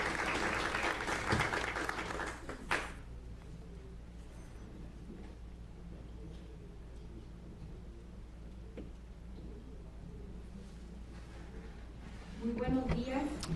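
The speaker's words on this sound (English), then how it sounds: "A round of applause," Audience applause for the panelists at a conference session on disaster risk management, heard for the first few seconds, then fading into a low, steady room hum with faint stirrings.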